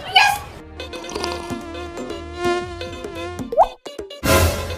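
A housefly buzzing around a cup of tea, a whiny droning hum with wavering pitch that runs steadily for several seconds, nearby and fairly loud, and then stops.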